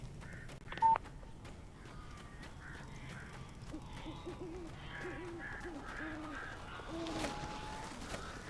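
Crows caw intermittently in a dark, eerie video game setting, the calls hoarse and moderately distant over a steady ambient bed, with a brief sharp electronic blip near the start.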